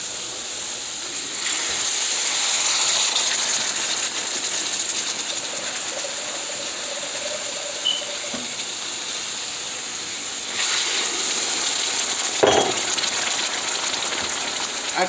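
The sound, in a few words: hot water poured into gravy in a pan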